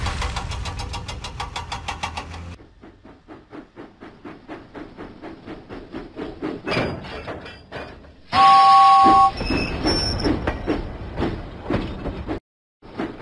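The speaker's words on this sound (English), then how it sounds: "James pumped his pistons and puffed out of the docks." A cartoon steam engine in a Thomas and Friends video game puffs in a rhythmic chuffing beat that speeds up steadily. Game sound effects and a brief tone come in near the end.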